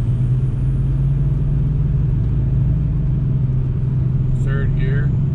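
A 2003 VW Beetle TDI drives along, its diesel engine and road rumble forming a loud, steady drone with a low hum throughout, while a brief voice cuts in near the end.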